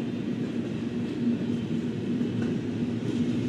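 A Norfolk Southern double-stack freight train rolls past on the Norfolk District, a steady, continuous rumble of rail cars held at an even level throughout, with no voices.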